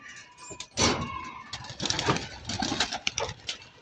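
A group of pigeons takes off, their wings beating in a series of sharp, rapid flapping bursts nearby that rise and fall over a few seconds.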